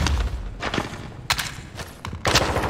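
Gunfire in Call of Duty Warzone: several sharp bursts and booming shots in quick succession, loud and close, with no talk over them.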